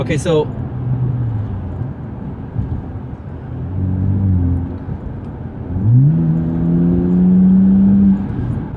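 A BMW fitted with a Windbooster throttle controller revs and accelerates, its engine rising in pitch in two surges that build to a sustained strong drone, while someone speaks briefly at the start.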